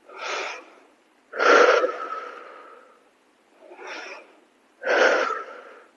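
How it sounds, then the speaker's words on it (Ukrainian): Four breaths in a breathing exercise, alternating forceful exhales out of the lungs with inhales drawn through the nose, each a close, airy rush separated by short silences. "а тоді вдихаєте через ніс і знову видихаєте"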